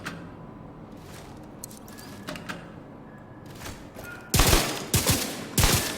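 Weapon fire crackles in The Division 2 video game, with quieter scattered shots building to several loud, sharp bursts of the Merciless explosion near the end.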